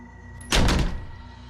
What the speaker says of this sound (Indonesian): mereka dikagetkan dengan suara pukulan di pintu kamar Sari